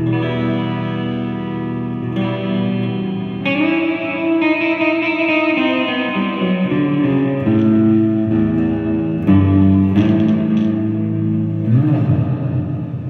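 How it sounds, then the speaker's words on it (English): Electric guitar played through a Haunted Labs Dark Aura pedal with mix and decay at halfway, sustained distorted chords trailed by washy reverb and repeating echo tails, loud and continuous with no talking. "And it adds that echo."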